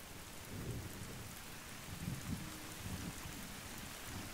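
Thunder rumbling in a rainstorm in Generation Zero after a lightning strike, low rolling booms over steady rain hiss, faint and distant.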